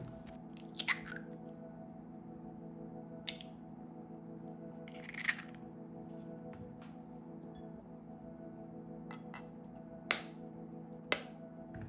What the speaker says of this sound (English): Take a bowl and crack 2 whole eggs.